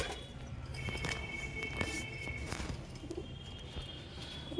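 Pigeon cooing at a loft where birds are sold, soft continuous low coos mixed with light shuffling and faint higher bird chirps, fairly close and steady.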